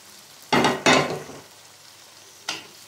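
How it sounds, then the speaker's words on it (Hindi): Fried okra being stirred into a cooked masala in a pan, heard as two close, sizzling scrapes in quick succession followed by a single shorter stir after a pause. "भिंडी डाल के इसे अच्छी तरह से एक दफ़ा मिक्स कर लेंगे मसाले के साथ"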